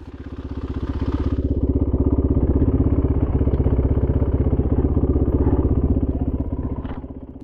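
Royal Enfield Himalayan motorcycles rumble nearby with a loud, steady single-cylinder thump, swelling slightly as they pass and easing off toward the end on a cold, muddy ride around Santa Cruz.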